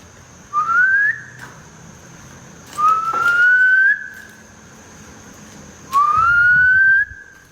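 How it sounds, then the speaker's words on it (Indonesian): Three rising whistles, each a short upward slide that levels off, spaced a couple of seconds apart, clear and fairly loud over a quiet hum. "Gue juga kayak ngedengar ada suara siulan di sini"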